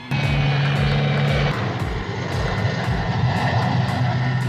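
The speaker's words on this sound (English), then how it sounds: "Once the helicopter hovered over the pit, it took just a few minutes for the rotor wash to blow the surrounding sand smooth and undisturbed." A helicopter hovers over a sand pit, its rotor wash blowing the surrounding sand smooth; a steady, loud droning engine and rotor roar with rhythmic blade pulses runs throughout.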